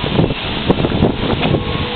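Strong wind buffets the microphone outdoors, a continuous loud rumbling roar with gusty swells and no let-up across the whole stretch.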